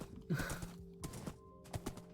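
Horse hooves clip-clop in the Minecraft mod Wonderland.jar, faint and a little slow, a few scattered knocking beats with short pauses between them.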